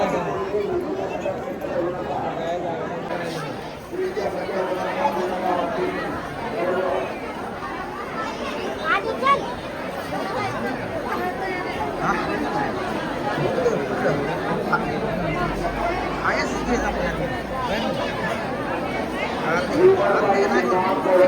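Dense crowd chatter fills a packed, rainy religious gathering for Balumama darshan, a steady unbroken babble of many voices close around, with no single voice standing out.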